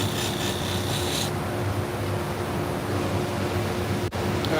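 Salon shears being sharpened produce a steady, loud grinding rasp throughout, with a higher ringing edge for the first second and a single sharp click near the end.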